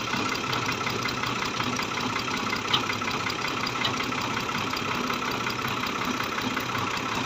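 A Fiat 480 tractor driving a water pump idles steadily at starting speed, its even mid-pitched engine chug running unbroken and fairly close, with no voices.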